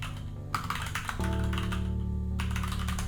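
Quick bursts of keystrokes on a computer keyboard while a short project description is typed, close and soft over a constant low electrical hum.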